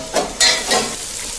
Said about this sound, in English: if you put too much beef in the pan, it will just braise and not sear